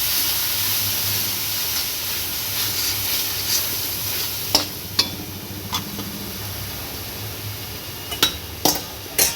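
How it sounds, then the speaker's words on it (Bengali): Meat masala with salt and turmeric fries in a pot under a constant close sizzle, while a spatula stirs and knocks sharply against the pan several times near the end, with no talking. "দেওয়ার পর এবার ভালো করে কষিয়ে নেব"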